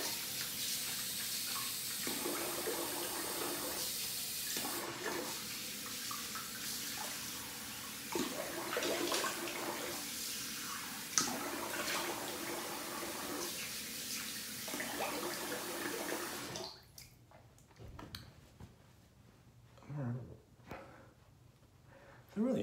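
Tap water runs steadily into a sink while someone rinses off after a wet shave, a broad continuous splash that stops abruptly partway through, followed by quieter drips and small splashes.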